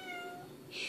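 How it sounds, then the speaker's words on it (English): A house cat lets out a single short meow near the end, after a faint steady tonal hum, heard close by and alone. "Shut up, cat."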